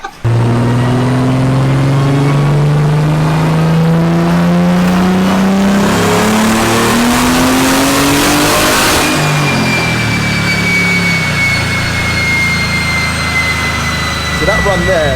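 A tuned BMW M240i engine revs hard, a loud rising tone climbing steadily to around 6,000 RPM over several seconds before dropping off and settling into a lower idle-like drone.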